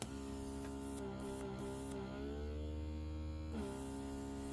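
A Sicotool electric diamond painting pen's small suction motor hums quietly, a steady whirring drone whose pitch glides and shifts partway through, close and faint with no talking.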